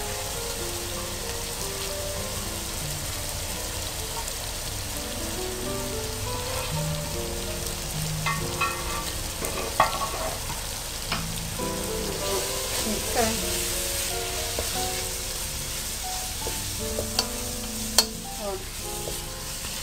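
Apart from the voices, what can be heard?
chicken, peas and carrots frying in a pan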